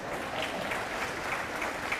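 Parents clapping at a college commencement ceremony, a dense, continuous wash of applause from a large crowd, steady and fairly loud for a couple of seconds.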